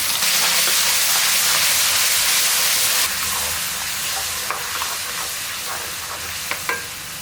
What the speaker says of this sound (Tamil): பாருங்கள், இந்த தக்காளி நல்லா வதங்கிடுச்சு.